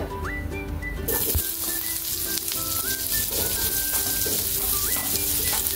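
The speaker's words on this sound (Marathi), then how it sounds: "त्यानंतर त्याच्यामध्ये आपण कांदा घालूया" Chopped onion sizzles steadily as it fries in a spoonful of hot oil in a pan, a dense continuous crackle with faint whistling tones over it and no talking.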